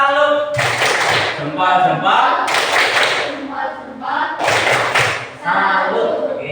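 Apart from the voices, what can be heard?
students clapping a salute cheer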